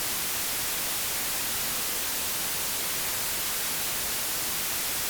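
Broadband noise signal run through a Bitwig phaser effect, a steady hiss spread evenly across the range, continuous and unchanging for the whole stretch with no voices.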